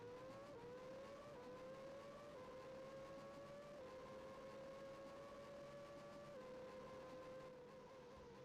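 A Formula One car in the 1991 F1 Grand Prix racing video game revs hard at a launch, its steady engine whine stepping upward through several quick gear changes. The engine sound is continuous and at a constant level throughout.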